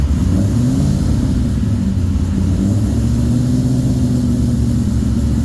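A Ford Mustang GT500 engine runs at a held, moderate rev around 2,000 rpm, a steady deep rumble with slow pitch shifts, loud and close with no voices.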